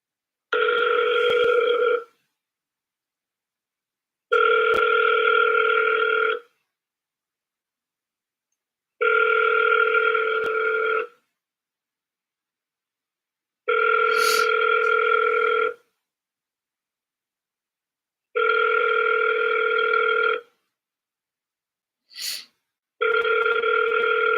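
An outgoing phone call rings unanswered, giving six evenly spaced two-second ring tones separated by silence, clear and steady with no voice on the line.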